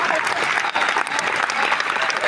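Sustained audience applause fills a hall at a Hindi poetry gathering, a dense steady clatter of many hands that holds evenly throughout with a brief dip partway.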